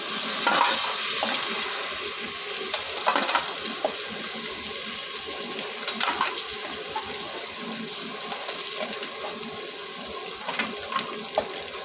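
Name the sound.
crabs frying in oil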